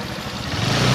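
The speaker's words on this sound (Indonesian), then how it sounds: "Jadi meskipun tekanannya ini rendah, tapi mesinnya masih tetap bisa bekerja dengan baik." A Honda Vario 125 scooter engine with a weak fuel pump runs in a steady, loud, close idle drone that swells slightly toward the end of a one-second burst.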